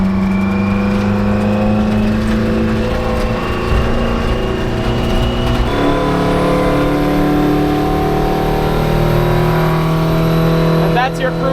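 A 1949 Ford F7 truck fitted with a Detroit Diesel engine drives at a steady cruising speed, its loud, constant drone holding and then shifting pitch partway through, with voices talking over it from inside the cab.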